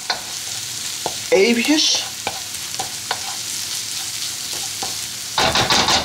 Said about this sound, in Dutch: Fruit het kruidenmengsel van lenteuitjes, knoflook en ketumbarzaden in de pan.